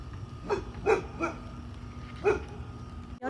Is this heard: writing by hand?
no